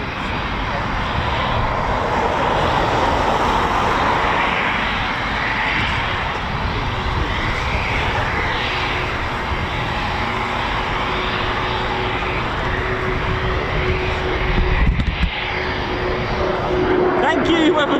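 Eurofighter Typhoon FGR4 jet at RAF Coningsby, a steady loud engine roar filling the whole stretch, with a person talking over it.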